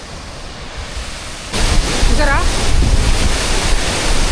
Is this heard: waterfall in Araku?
yes